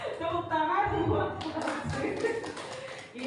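An audience claps hands in a short burst, the patter of many hands rising midway under and after a voice talking, ending within a few seconds.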